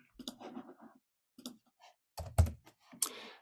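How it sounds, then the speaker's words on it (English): Typing on a computer keyboard during a webinar demo of an address autocomplete tool. Short bursts of quick clicks arrive in uneven clusters separated by brief pauses, close and fairly soft. "when we start typing"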